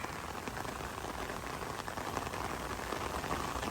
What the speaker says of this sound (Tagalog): Malakas lang talaga yung ulan eh.